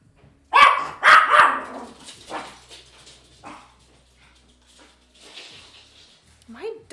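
Dogs bark nearby: two loud barks come close together at the start, followed by fainter scattered barks and a whimper, with a person talking in the same space.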